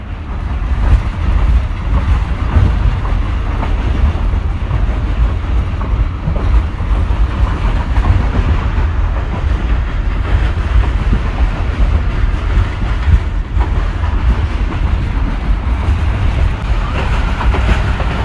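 Hazara Express 12 Down running at roughly 70–80 km/h on an overnight journey toward Multan, a loud, steady low rumble of rolling wheels and carriage noise continuing without a break, with no voices.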